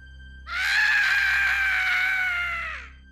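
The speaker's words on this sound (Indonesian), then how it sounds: "Dan yang terakhir Gama denger itu si Nipia ah, teriak kenceng banget." A single loud, sustained scream from a woman, piercing and steady for over two seconds before trailing off.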